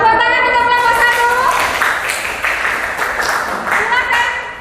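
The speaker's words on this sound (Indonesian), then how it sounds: "Tepuk tangan untuk kelompok 1." Audience clapping for the first student group after their classroom presentation, a steady wash of hands lasting several seconds with some voices mixed in.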